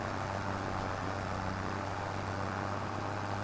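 A tractor engine in the Calm Lands farming game drones steadily at a low pitch, a continuous mechanical hum with no breaks and no talking.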